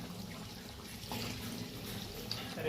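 Water is poured into a pan of fish curry with cooked onions, a soft continuous trickling pour heard close and fairly quiet, with no talk over it.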